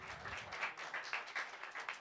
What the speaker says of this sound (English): So he deserves a big round of applause for that.